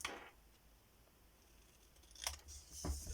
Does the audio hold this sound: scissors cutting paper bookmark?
yes